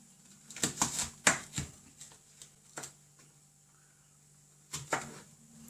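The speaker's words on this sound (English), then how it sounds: "I just cut them roughly into pieces." A knife roughly chops chili peppers into pieces on a board, giving a run of sharp, irregular taps in close-up, clustered early and again near the end, with no speech.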